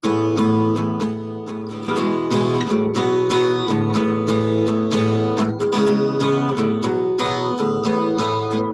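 A guitar strums a chord progression in a steady rhythm, bright and close, with chords changing every beat or two and no talking.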